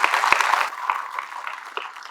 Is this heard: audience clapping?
yes